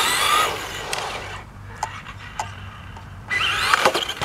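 A Traxxas Rustler XL-5 electric RC truck's motor whines loudly as it pops a wheelie, fading out, then a quieter lull with light clicks before the high-pitched motor whine surges back near the end.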